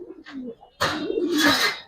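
Low cooing from Giribaz and colored pigeons kept for sale comes in soft short phrases, then a louder, broader stretch of cooing mixed with rustling noise fills the second half.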